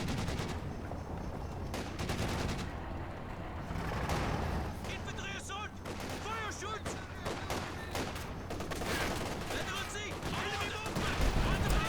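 MG34 machine gun bursts in the game Company of Heroes 2, with rapid crackling volleys and other battlefield gunfire throughout at moderate level, and a commentator talking over them.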